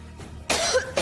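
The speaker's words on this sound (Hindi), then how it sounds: "ठीक तो है, सिर्फ खांस रही है।" A woman coughs in two quick, harsh bursts, close and fairly loud, with a short pause between them.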